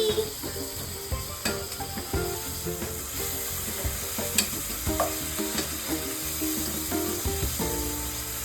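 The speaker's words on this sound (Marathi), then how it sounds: "पलीने आता नीट करूया." Onions frying in a pan for chicken biryani, stirred with a ladle: a continuous loud sizzle broken by repeated metallic scrapes and knocks in an uneven rhythm, with no talking.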